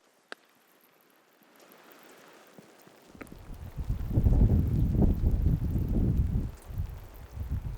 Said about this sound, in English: It hasn't been too windy yet, but it's starting to pick up a little bit.